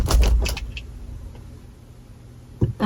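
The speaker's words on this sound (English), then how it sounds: "Let me grab my keys." Keys jangle briefly up close at the start, a quick metallic rattle that fades into quiet room tone before a short bump near the end.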